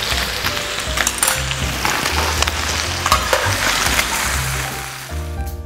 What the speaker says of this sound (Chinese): 现在把肉两面都煎成金黄色之后